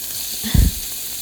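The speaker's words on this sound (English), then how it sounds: "I'm going to start by frying the chicken." Chicken hits hot sunflower oil in a pan for a stir-fry with a brief loud sizzle that quickly settles back into a quieter background hiss.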